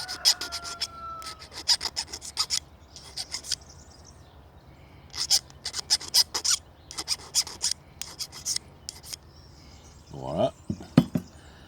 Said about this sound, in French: avec la lime, je vais enlever ces bavures qu'il y a